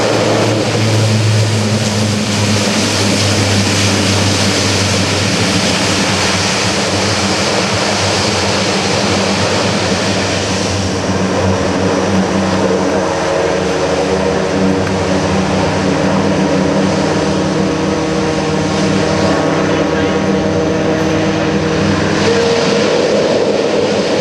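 A Lockheed C-130J-30 Hercules at an Air National Guard airshow roars loudly and continuously as its propellers go into reverse thrust after landing, a heavy, close, sustained propeller and engine drone that never lets up.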